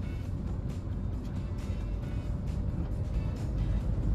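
A Tata vehicle idles and moves at a busy Indian petrol pump, its engine a steady close rumble that grows slightly louder toward the end, with no speech.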